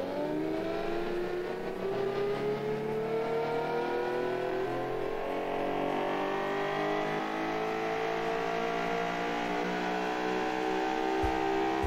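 A 12,000 rpm V12 hatchback engine in BeamNG revs high, a whining, rising multi-harmonic tone that climbs steadily over several seconds, clean and continuous with no talking.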